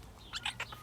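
A pet bird gives a few quick, bright chirps in a short burst, close by and fairly soft, with no talking over them.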